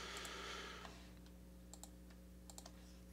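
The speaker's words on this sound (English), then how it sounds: "Sorry, I can't type today at all." Keyboard typing at a computer running REAPER, a handful of soft scattered key clicks at low level over a steady hum, with a brighter burst of noise at the start.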